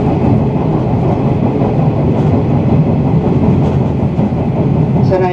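Loud, steady rumble of a 485 series express train rolling on rails, heard from inside the carriage, with a continuous low drone and faint rhythmic clatter.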